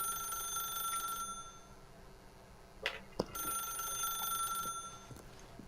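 A telephone rings in The Stanley Parable video game, its steady electronic ring running through most of the moment with a couple of sharp clicks midway, heard alone with no talk.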